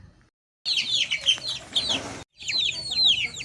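Sick chicks in a brooder peep and cluck in rapid, high chirping bursts, close and fairly loud, broken by a short silence before the calls resume.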